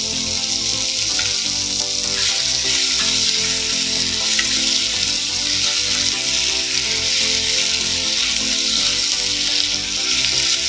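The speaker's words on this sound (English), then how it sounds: "Cook this mixture until the tomatoes turn mushy." A chicken thokku mixture with tomatoes sizzles and bubbles steadily in a pan, a continuous, close frying hiss with no talk throughout.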